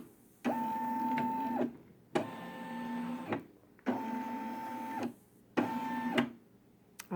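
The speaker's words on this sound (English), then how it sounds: "I press this button and the needle will travel the boundaries" A Brother SE600 embroidery machine moves its needle around the hoop boundaries, giving four separate whirring motor runs with a steady buzzing hum, each a second or so long, divided by short pauses.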